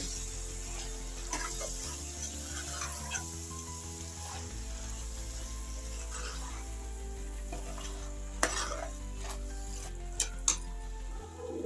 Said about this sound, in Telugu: ఇప్పుడు మనం తీసుకున్న పప్పు ఇందులో వేసేది ఇది కొద్దిగా ఫ్రై